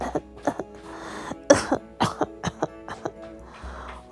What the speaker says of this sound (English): her cough was bothering her